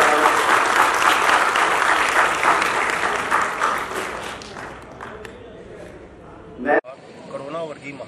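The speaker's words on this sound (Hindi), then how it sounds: "मैं इनके लिए एक बार जोर से ताली से" Enthusiastic audience applause at a school honoring a band, loud and dense at first, gradually fading, then ending with a brief sharp noise and a few spoken words.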